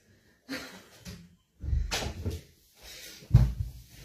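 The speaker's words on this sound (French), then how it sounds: "je vais fermer la porte" An indoor door is pushed closed by hand, giving soft knocks and a thud with some rustling, close by and fairly quiet.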